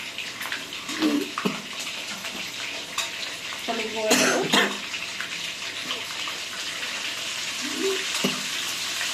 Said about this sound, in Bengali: আলুগুলোকে একদম আমি লাল করে ভেজে নেব